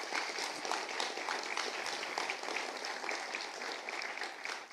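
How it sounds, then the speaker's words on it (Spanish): A church congregation breaks into sustained applause, dense steady clapping filling the space at an even loudness throughout, with a few voices faintly mixed in. "Dale un poderoso aplauso a Jesús."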